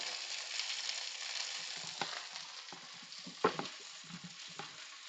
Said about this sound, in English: The roux is boiling up, getting a little thick in there.